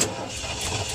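An old van's engine cranks and catches on the ignition key, a dense rumbling roar with steady mechanical churning, loud and close for about a second.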